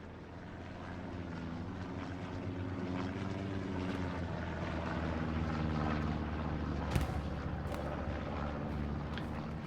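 Propeller aircraft drone steadily overhead in the World War II shooter game Hell Let Loose at St Marie Du Mont, a loud continuous engine hum that swells and fades slightly, with a brief sharp crack near the end.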